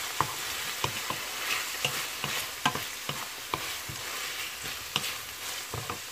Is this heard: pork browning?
yes